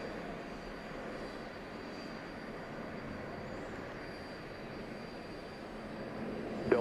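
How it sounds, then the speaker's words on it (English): A China Airlines Cargo Boeing 777 jet arriving at Atlanta airport at night, heard as a steady, distant broadband engine roar that holds evenly throughout and swells slightly at the very end. "This China Airlines Cargo 777."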